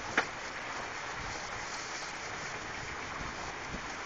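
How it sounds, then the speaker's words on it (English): Heavy thunderstorm rain at a pumpkin patch, a steady dense broadband hiss of downpour close by with one brief sharp tap near the start, continuous and unbroken throughout. "Serious rain."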